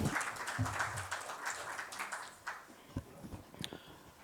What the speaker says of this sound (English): Please do give him a big, big round of applause as we welcome him